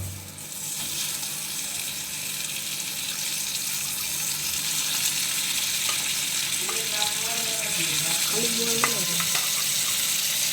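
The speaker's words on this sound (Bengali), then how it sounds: "এখন বোয়াল মাছগুলো একে একে ছাড়ছি, দেখে নাও।" Boal catfish pieces sizzle and fry in hot oil with onions, a steady close crackling hiss that continues throughout, with some faint clinks and tonal sounds near the end.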